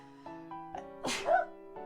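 A single sudden sneeze bursts out close by against a quiet background with a soft tonal hum, loud and sharp, followed by a short trailing exhale.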